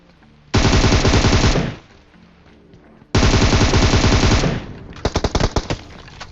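Two long bursts of rapid machine gun spray fire in PUBG Mobile, loud and close, separated by a short gap, followed by a few scattered single shots.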